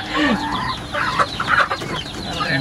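Hens and roosters on a farm cluck busily up close, a dense overlapping chorus of short throaty calls with no pauses.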